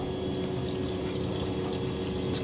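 A Miele W Classic WDA210WPM washing machine fills with water during a minimum iron 60°C cycle with Water Plus, giving a steady, close, continuous rushing and pouring flow with no breaks.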